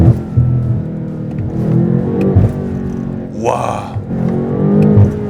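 BMW M8 Competition coupe revving hard in Sport Plus with manual gear control, a loud rising engine roar that swells and surges midway, close up inside the cabin, with a voice exclaiming over it.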